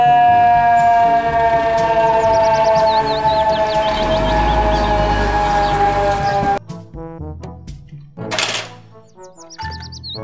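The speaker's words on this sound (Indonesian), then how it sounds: "Mobil truk pemadam kebakaran." A toy fire truck's siren wails loudly in steady rising-and-falling electronic tones for several seconds, then cuts off into shorter toy beeps and chirps.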